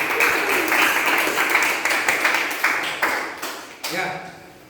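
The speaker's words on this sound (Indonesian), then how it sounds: "Aplaus untuk kita semua." Schoolchildren clapping together in a classroom at the end of a lesson, a dense burst of applause that quickly breaks into a few scattered individual claps and fades, with voices audible nearby.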